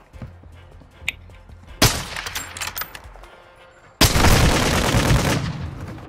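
Gunfire in a first-person shooter erupts in two loud, sharp bursts: a short crack-filled volley, then a sustained, dense roar of shots that fills the rest of the moment over faint game ambience.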